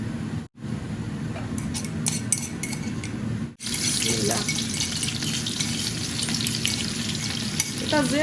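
Garlic fries in oil with a loud, steady sizzle that briefly cuts out twice, then returns with bubbling and occasional clinks, close to the pan.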